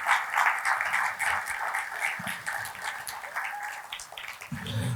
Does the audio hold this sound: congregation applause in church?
yes